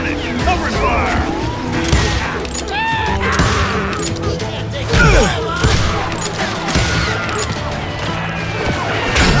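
Video game gunfire in a Wild West shootout from Call of Juarez Gunslinger: dense, continuous loud bursts of shots and impacts layered over music and game effects, with no clear break for the whole stretch.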